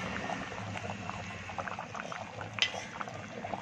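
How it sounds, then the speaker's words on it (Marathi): A curry of dried Bombay duck and black-eyed beans bubbles softly in a pot on the stove, with a quiet, steady simmer and a few small pops and faint utensil clinks, with no voices. "आमटी छान आपली 5-6 मिनिटं उकळलेली आहे."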